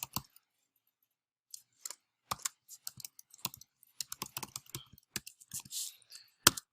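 Scattered bursts of computer keyboard typing while entering an email address, close and quiet clicks in irregular clusters separated by silent pauses.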